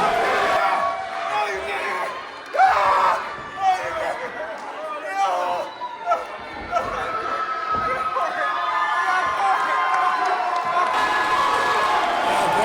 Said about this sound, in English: I don't know if you can hear the crowd yelling Baldy.